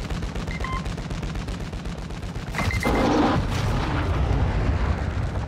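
Call of Duty MW2 DMZ gunfire on Ashika Island aimed at an attack helicopter, rapid shots under steady battle noise, swelling into a louder dense burst of fire and blasts midway, then continuing.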